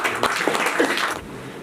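An audience at a taekwondo academy black belt ceremony claps in a dense, close round of applause that holds steady for about a second, then quickly fades away.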